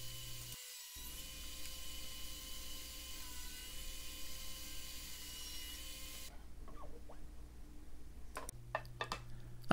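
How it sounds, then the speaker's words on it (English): Table saw slicing the lid off a wooden box: a steady, faint motor whine runs for about six seconds, then cuts out, leaving a few light knocks and taps. "it's time to cut the lid off with just a simple cut on the table saw"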